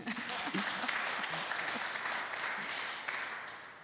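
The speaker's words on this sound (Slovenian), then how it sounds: "Predlagam, da še enkrat zaploskate." An audience at a Slovenian nursing and midwifery awards ceremony gives sustained applause, a dense, even roar of many hands clapping, fairly loud and continuous throughout.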